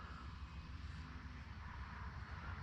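An E-Flite Commander MPD radio-controlled airplane on 3s battery power flies overhead with a steady, continuous electric motor and propeller drone, fairly loud and even throughout, with no talking.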